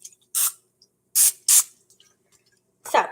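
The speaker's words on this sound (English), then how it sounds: "I'm just going to spray a little bit here on the bottom and a little bit on the top" Olive oil cooking spray sprayed into a pan, heard as four short, sharp hissing bursts close by with brief silences between them, the last slightly longer and softer.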